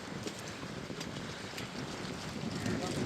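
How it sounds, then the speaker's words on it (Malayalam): Strong wind buffets the microphone on a Maldives island beach, a steady loud broadband roar with gusty swells throughout. "നല്ല കാറ്റ്, മിക്കവാറും രാത്രി മഴയായിരിക്കും അല്ലേ?"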